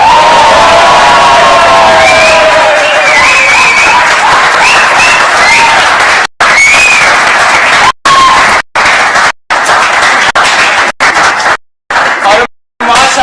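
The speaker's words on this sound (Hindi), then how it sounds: "सबकी भरपूर तालियों में" A studio audience gives loud applause and cheering to welcome a guest on a cricket talk show, with whoops and shouts over steady clapping, and the sound cuts out briefly several times.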